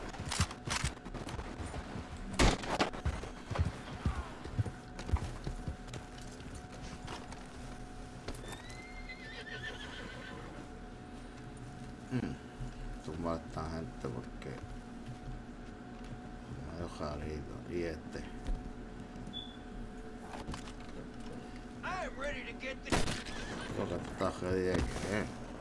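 Horses in Red Dead Redemption 2 repeatedly neigh and whinny over steady clip-clop hoofbeats on a road, with occasional sharp gunshot-like cracks and someone speaking at times.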